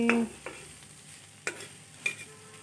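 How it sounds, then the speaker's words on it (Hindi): Egg bhurji frying in a pan while being stirred, a quiet sizzle broken by three or four distinct scraping strokes of a spoon, close and fairly faint. "अंडा भुजिया देखो केनता लागुछे"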